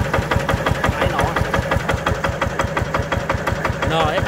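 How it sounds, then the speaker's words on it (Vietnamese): The diesel engine of a one-tonne tracked mini dumper idles steadily close by, with a loud, even knocking beat and mechanical rattle throughout. "máy nổ đến từng tiếng luôn nha, máy nổ"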